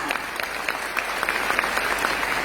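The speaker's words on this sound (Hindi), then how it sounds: "एक बार जोरदार तालियां होनी चाहिए" Audience applause at a speech event, brisk and fairly loud clapping from a crowd that carries on steadily for the whole short stretch, with a voice faintly in the background.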